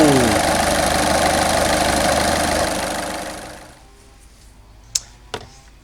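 A Peugeot 206 1.4 HDI diesel engine runs at a loud, steady clattering idle close by, then is switched off and dies away after a few seconds, followed by a couple of sharp clicks or knocks in the quiet.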